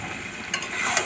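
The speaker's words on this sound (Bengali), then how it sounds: "এবারে ভালো করে নেড়ে নেড়ে জলগুলো শুকনো করে নিতে হবে" Taro leaves and shrimp are stirred in a pan to cook off the water, giving a steady soft sizzle with a couple of brief scraping strokes near the middle and a louder hiss toward the end.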